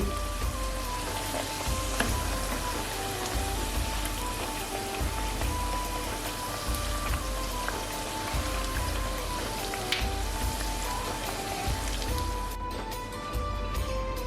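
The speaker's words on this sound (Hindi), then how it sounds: "अब इसे गोल्डन फ्राई करेंगे।" Chicken vegetable rolls fry in hot oil, giving a steady dense sizzle and bubbling that runs unbroken throughout, with soft faint tones in the background.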